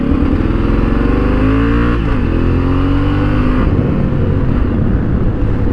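A Honda Africa Twin motorcycle accelerating hard in first gear, its engine note climbing steadily in pitch before a brief dip and another rising pull, loud and close throughout with no talking.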